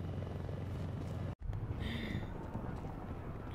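A helicopter in Mortal Kombat X gives a loud, continuous rotor rumble with dense low chop, broken by one brief silent dropout.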